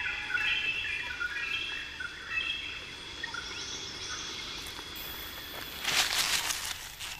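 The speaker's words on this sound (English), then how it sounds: "Cheeky green parrots." Green parrots call in a stretch of outdoor ambience, several bright chirping calls scattered across the first half with insect-like buzzing beneath, then a louder burst of shrill calling toward the end.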